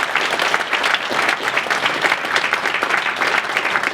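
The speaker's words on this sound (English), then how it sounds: "I think all the footballers and ex-footballers deserve a massive round of applause" A large stadium audience applauds footballers and ex-footballers at West Ham, a dense, steady roar of clapping that stays loud and unbroken from start to finish.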